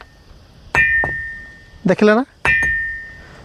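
A stone on a hilltop is struck against another stone, giving two loud, clean, bell-like ringing clangs that sustain and fade, with a short burst of speech between them.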